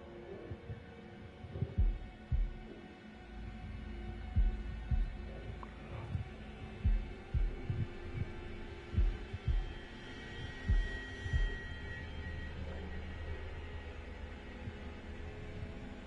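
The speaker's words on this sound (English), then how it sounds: "Press X in time with the heartbeat." Heartbeat in the horror video game Man of Medan: low, thudding pulses repeating in a steady rhythm over a dull ambient hum, with no talk.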